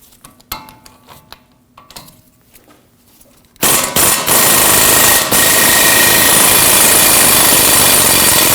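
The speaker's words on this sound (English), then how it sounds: "We'll remove our pinch bolt with a 17mm." A 17mm socket backs out the strut pinch bolt on a 2016-2022 Honda Pilot during a front wheel bearing job. A few scattered metallic clicks come first, then a loud, sustained, harsh rattling tool burst runs to the end.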